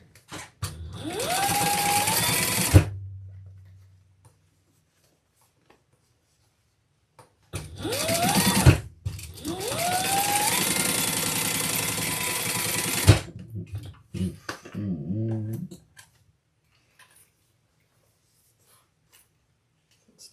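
A sewing machine winds a new bobbin, with a whirring motor run of about three seconds, a pause, then a longer burst of roughly five seconds, close and loud, with faint handling clicks afterward.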